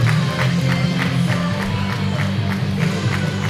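A crowd at a Frontline Pro wrestling event in Bakerville applauds steadily, a dense wash of clapping and cheering that stays loud and even throughout, heard close with no clear gaps.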